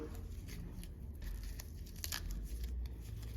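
A layer of paper is torn out of a fake leather belt as it is taken apart. The tearing is steady, close-up and quiet, with crinkling and dry crackles running throughout.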